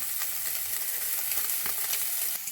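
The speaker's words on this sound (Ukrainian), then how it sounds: "Бекончик має гарно-гарно у нас підсмажитися." Bacon fries in a pan in its own rendered fat, a dense, steady sizzle with scattered crackles and pops, close and even throughout, no talking.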